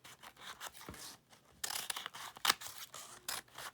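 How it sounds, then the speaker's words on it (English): Scissors cutting through paper to shape a paper wreath, a run of soft crisp snips and rustles, close and fairly faint, with one sharper cut near the middle and no talk. "Keep cutting all the way to the end."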